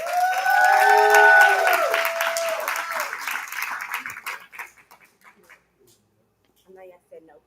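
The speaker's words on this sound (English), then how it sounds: "let's give a hand clap for Miss Mo" Audience at a banquet clapping in applause alongside cheering voices, loud at first and then thinning out to a few scattered claps before fading to near silence.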